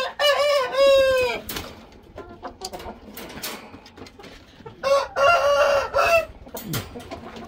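A rooster crows loudly twice, each rising call standing clear, with softer clucking and scattered farmyard noises in the gaps between.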